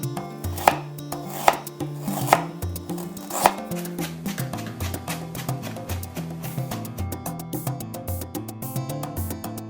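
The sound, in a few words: chopping ginger and garlic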